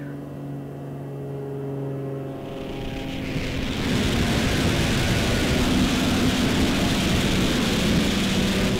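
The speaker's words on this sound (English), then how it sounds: "That's a loud airplane. It's flying really low." A low-flying airplane roars overhead, swelling from a quiet hum into a loud, steady broadband rush that fills the rest of the stretch.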